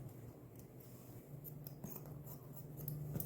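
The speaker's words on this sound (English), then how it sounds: "We'll cut off the extra." Scissors snipping off the excess end of a horse's lower limb bandage wrap, a faint, soft cutting sound close by against a low background hum.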